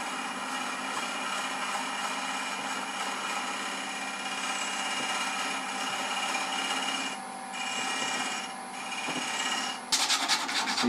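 Abrasive rubbing against the end grain of a wooden box turning on a lathe, a steady, continuous raspy scrubbing that holds at an even level before ending in a brief, more uneven scratchy burst.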